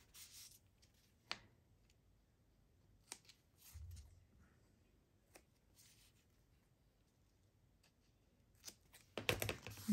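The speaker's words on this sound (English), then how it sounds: "I'm going to snip these off." Scissors make a few sparse, quiet snips through paper journal card pieces, separated by pauses, ending in a short cluster of louder cutting and handling noises.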